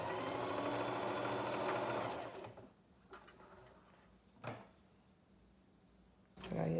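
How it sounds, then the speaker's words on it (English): A sewing machine runs a straight stitch on a reusable face mask, whirring steadily for about two seconds, then stopping and followed by a few faint clicks and handling knocks. "I'm stitching."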